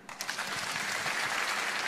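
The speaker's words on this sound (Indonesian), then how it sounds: "Tepuk tangan dulu." Audience clapping at a religious talk swells from a few claps into steady, even applause that continues to the end at moderate loudness.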